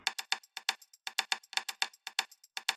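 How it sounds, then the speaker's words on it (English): Dry, clicky rim shots from an electronic drum track repeat in a quick, slightly irregular pattern panned to the left, crisp and close with sharp wooden ticks and no voices. "It's a little rim shot on the left."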